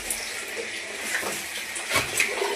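Water runs for a bath in a steady, close splashing stream, with small gurgles and splashes rising over the rushing flow.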